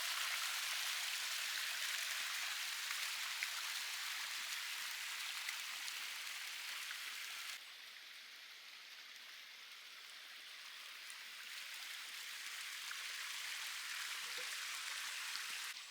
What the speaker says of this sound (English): would have actually entirely missed the real waterfall.